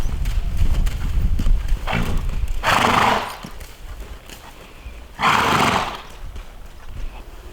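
A horse gives two loud whinnies a couple of seconds apart, with hooves thudding and clopping on the ground between them.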